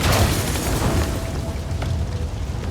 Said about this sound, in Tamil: அந்த காரே வெடிச்சு செதறுது.